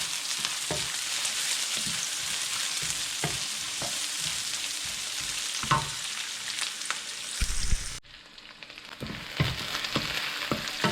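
Star anise, bay leaf and peppercorns fry in a pot for beef pares, giving a steady loud sizzle broken by stirring clinks and scrapes that ease off briefly near the end.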